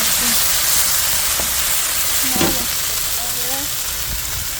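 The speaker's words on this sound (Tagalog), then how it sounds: "Mabilis lang natin siyang igisa" Sliced sponge gourd (patola) sautés in a hot pan with a loud, continuous sizzle and hiss, broken by a brief scrape of stirring. Faint voices murmur underneath.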